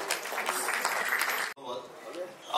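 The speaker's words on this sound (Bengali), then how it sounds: "এটা সকলে করতালি দেবেন।" An audience claps in a steady, dense burst of applause at the International Kolkata Short Film Festival, then it breaks off abruptly and quieter murmuring follows, with voices present throughout.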